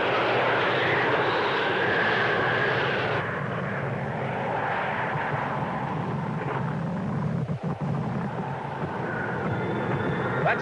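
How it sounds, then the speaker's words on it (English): A steady, droning airplane engine hums continuously throughout, fairly loud and broad, with faint rustling and a brief muffled knock partway through. "do you hear that? It sounds like an airplane."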